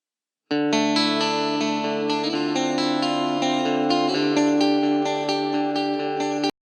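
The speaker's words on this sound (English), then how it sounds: "that's just a clean patch I have in the Axe Effects that does that cool echoey thing" Clean electric guitar patch on an Axe-Fx processor, rich with echo and reverb, rings out in sustained layered chords and repeating notes that shimmer and bounce continuously for about six seconds, no voices.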